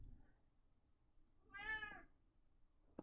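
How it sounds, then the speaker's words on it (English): A single cat meow rises and falls in the middle, faint and somewhat distant, followed by a brief click; otherwise near silence. "if you heard that meow in the background, that's my cat, Kaya"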